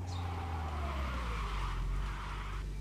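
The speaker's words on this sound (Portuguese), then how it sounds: "Dá pra fazer um drift da hora com o carro, hein?" A car drifts in the racing video game Retro Garage, with a steady engine drone and a continuous tire squeal sliding in pitch for nearly three seconds, loud and unbroken.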